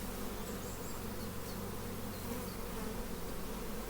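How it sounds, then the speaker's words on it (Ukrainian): Honeybees buzz continuously around an opened hive among frames of comb and open brood, a dense steady hum close at hand, with no voices. "Ну, Бджола дійсно спокійна, але така, такий рій"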